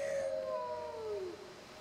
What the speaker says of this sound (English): We have what sound like wolves.